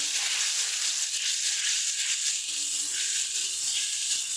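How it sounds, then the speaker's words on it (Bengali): Spices and dried red chilli paste for a Bengali cauliflower curry sizzle steadily in a pan, a close, even frying hiss with no pauses and no talk. "সমস্ত কিছুকে ভালো মতন করে কষিয়ে নেব।"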